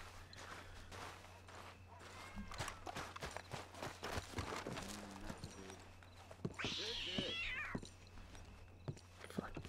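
A cat meows in Red Dead Redemption 2, heard among in-game horse hooves clip-clopping and footsteps. The meow is one brief cry partway through.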